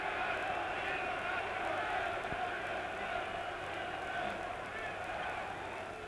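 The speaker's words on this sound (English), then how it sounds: "getting a tremendous reception from this huge German crowd" A huge German crowd roars for boxer Karl Mildenberger after his heavyweight title challenge against Muhammad Ali in 1966, a dense, sustained arena din of cheering and clapping that stays loud and even from start to finish.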